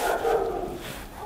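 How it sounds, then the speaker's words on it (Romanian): Dogs barking near a house at night, a muffled, indistinct stretch of barking and whimpering that sits low in a noisy background, steady and fairly faint without clear separate barks. "După cum am spus, câini."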